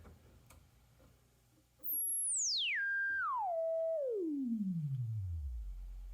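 A Moog Grandmother synthesizer's self-oscillating filter produces a clean sine tone that starts suddenly very high and sweeps steadily downward in steps to a deep low pitch, alone and sustained.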